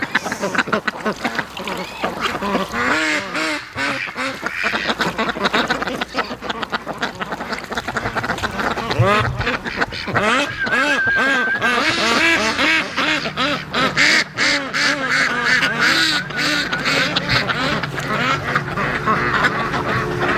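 Female ducks quack loudly and nonstop at a lakeside during breeding season, a dense overlapping chorus of harsh, raucous calls from many birds, some close and some farther off, with a faint voice briefly underneath.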